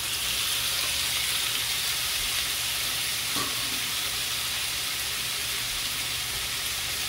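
Shrimp fry in a hot pan with a loud, dense, continuous sizzle and hiss, close up and steady, with a faint clack of a utensil midway.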